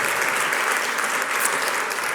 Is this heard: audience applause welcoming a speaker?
yes